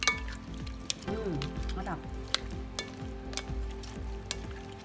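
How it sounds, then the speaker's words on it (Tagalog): A squid kinilaw salad being mixed by hand, with wet stirring, clinking and squelching sounds in steady bursts up close, while a person speaks briefly. "Basta, mix ka lang ng mix."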